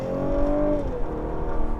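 A 400-horsepower car engine with a V6-like note revs and whirs steadily inside the cabin, a rising then settling tone heard alone at moderate loudness.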